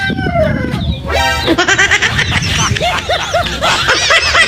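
A flock of chickens clucks and squawks busily close by, with overlapping calls and a brief crow-like cry near the start.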